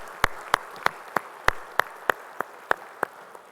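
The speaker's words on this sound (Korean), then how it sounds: "우리 하나님께 영광의 박수 올리겠습니다" Church congregation clapping: about ten crisp, evenly spaced claps in a slow, steady unison rhythm, moderately close, with a quiet room behind them.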